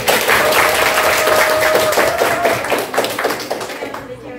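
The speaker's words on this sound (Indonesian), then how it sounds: "Kasih tepuk tangan dong buat" Audience clapping in a classroom or training session, brisk applause from a modest group that starts strong and tapers off toward the end, with talk heard underneath.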